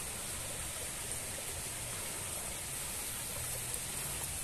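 Steady broadband rush of water flowing in a stream beside farmland near bamboo, constant and fairly close with no clear breaks, carrying no speech.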